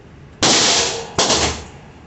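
A Glock 19 pistol fitted with a metal guide rod fires two loud, close shots less than a second apart, each with a sharp crack and a short decaying echo.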